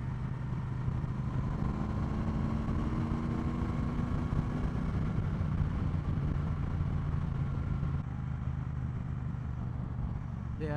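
Triumph Bonneville Bobber motorcycle engine under way on the road, a steady moderate drone with a slowly rising pitch, heard from the rider's seat with wind noise and no fairing.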